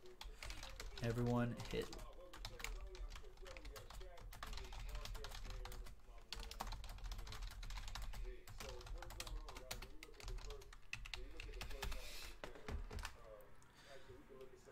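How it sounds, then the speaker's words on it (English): Keys on a computer keyboard patter rapidly beneath ongoing speech and background chatter during a live baseball card box break stream, with the typing faint and mixed into the talk. "I'm going to type in the chat."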